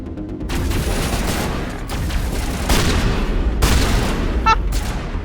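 Shotgun blasts and gunfire in the game Mass Effect, several loud, booming bursts over a constant noisy combat din, with a few sharp onsets breaking through the clatter.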